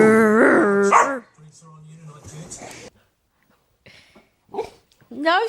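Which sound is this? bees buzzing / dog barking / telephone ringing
dog barking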